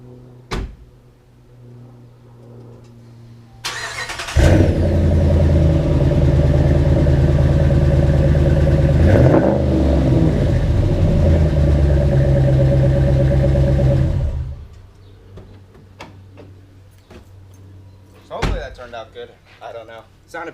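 A 2016 Dodge Ram 1500 with the 5.7L Hemi V8 fires up and idles through its exhaust, a loud deep rumble held for about ten seconds before cutting off, followed by quieter clunks and handling.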